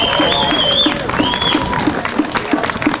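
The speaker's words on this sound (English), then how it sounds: "Would you give her a good round of applause?" Scattered clapping from a crowd at an outdoor peace rally, moderately loud and steady, with tonal whistles or cheers rising above it and a voice faintly underneath.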